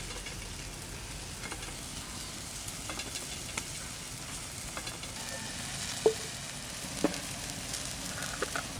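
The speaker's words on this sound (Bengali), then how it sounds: "লবণ, এবার জাল দিয়ে অনেকক্ষণ ফুটবো।" Hilsa curry simmering and sizzling in a pan, a steady soft bubbling hiss with occasional light clinks of stirring, close and quiet.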